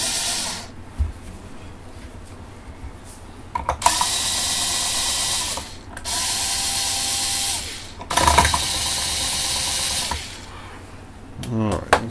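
Acoustic guitar strings being loosened by turning the tuning pegs, giving ratcheting mechanical clicks and longer stretches of whirring, winding noise, up close with no talk.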